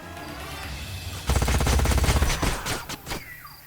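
Enemy unit weapons fire in the strategy game Age of Wonders Planetfall, a sudden loud volley of rapid shots that cuts in after a quieter start, then breaks into scattered cracks and fades.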